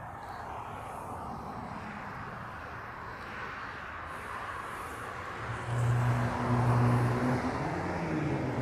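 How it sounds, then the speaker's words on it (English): A United airliner in an almost all-white Star Alliance livery departs at LAX, its jet engines a broad, steady roar at a distance that swells slightly toward the end over faint outdoor noise. "So the next plane you'll hear depart is United"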